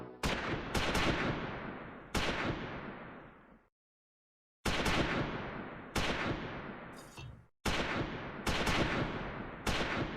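Sharp, loud blasts from mortar and gun fire in the Close Combat 4 Battle of the Bulge wargame, each report ringing out and decaying, spaced irregularly with short silent gaps between them.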